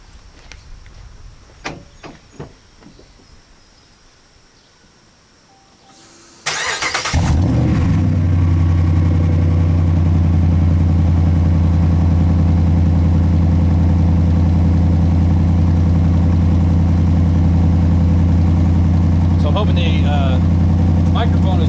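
Quiet clicks and shuffles, then a Ram pickup engine with a Flowmaster Flow FX muffler cranks and catches at once into a loud, deep, steady rumbling idle that carries on close by.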